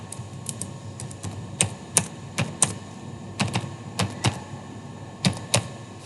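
Typing a net user command on a computer keyboard: irregular, close key clicks in short bursts with brief pauses between them, no talk.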